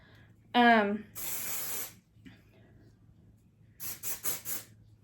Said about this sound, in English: Just enough to spray it on the roots there,